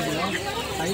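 Chickens cluck and squawk in a short burst at the busy Pallavaram Friday market, where birds are kept in separate pens, with crowd voices blended in the background.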